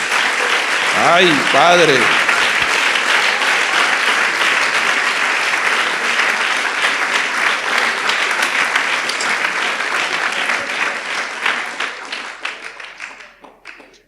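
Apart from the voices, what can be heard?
church congregation applauding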